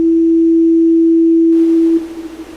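Ableton Reverb with freeze engaged holds a sustained steady tone that rings on unchanged, then opens into a soft diffuse wash as the frozen ambient tail continues.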